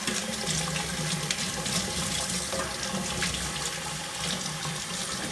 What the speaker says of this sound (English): Clean that out a bit more with some flush of water.